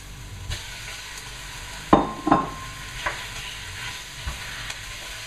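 Beef browning in a pan with softened onion, a low steady sizzle broken by a few sharp scraping stirs of a utensil.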